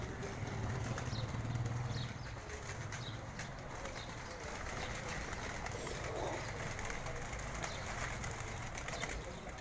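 A fancier's flock of pigeons coos softly and continuously at moderate distance, with occasional light shuffles and flutters, and no speech over it.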